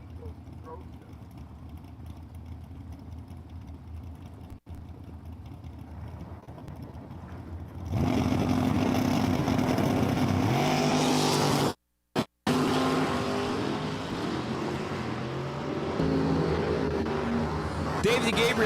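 Drag racing cars at Empire Dragway, among them an '84 Chevy El Camino, idling low and distant before a loud engine roar as they launch, with a brief dropout midway and an announcer talking over the start.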